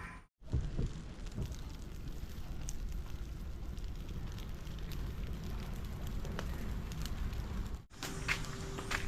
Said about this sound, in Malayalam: ഈ തീ കത്തിക്കുക